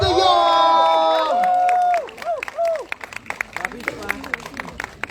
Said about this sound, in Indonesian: tepuk tangan sekali lagi untuk Brian Domani dan juga Mawar De Jong